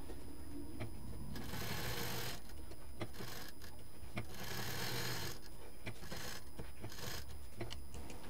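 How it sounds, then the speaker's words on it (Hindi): Sewing machine running in repeated bursts of stitching along a marked line on fabric for a face mask, a steady buzzing whir stopping and restarting several times, close and alone with no talk. "इस जो हमने ये लाइन खींची है इसी पर मशीन चलानी है"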